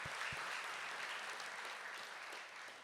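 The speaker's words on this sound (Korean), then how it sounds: "한번 크게 감사의 박수 한번 해주시면 어떨까요?" Faint, distant applause from a congregation at a joint Easter dawn church service in London, a steady wash of clapping throughout.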